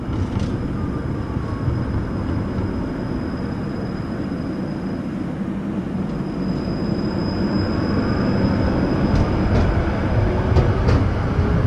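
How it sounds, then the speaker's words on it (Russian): A tram rides along its rails, heard from on board as a continuous loud rumble of wheels and motor with a faint steady whine, growing slightly louder toward the end, with no one talking. "Это трамвай."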